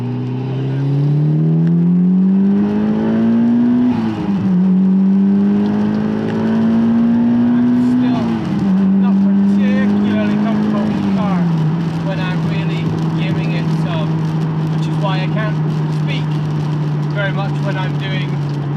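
A Mitsubishi Lancer Evo IX running low power pulls hard at high speed, its engine note climbing steadily through several gears with brief dips at each shift, then holding a steady drone, with a voice talking over it.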